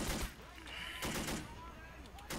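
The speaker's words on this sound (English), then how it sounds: "Being pelted by 20 mil fire." Heavy 20 mm cannon fire in the war game Men of War Assault Squad 2, repeated sharp bursts and impacts pelting in quick succession, fairly faint, with a voice talking underneath.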